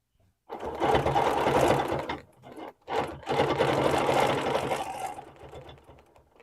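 A sewing machine runs fast and close while doing ruler quilting stitches in two long bursts, separated by a short stop, then tapers off into quiet.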